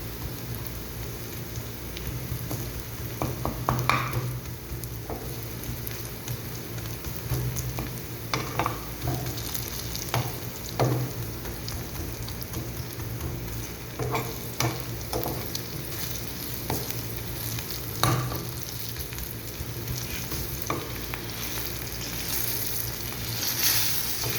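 Garlic fries in hot oil in a pan while being stirred, giving a steady close sizzle broken by frequent scraping clicks of the utensil, continuing for about twenty-four seconds without speech.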